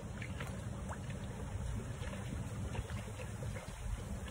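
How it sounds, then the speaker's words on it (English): Steady wind at a New Jersey fishing spot rushing and buffeting across the microphone, a constant low roar with no pauses, loud and close throughout. "the wind's blowing right at me and to the left."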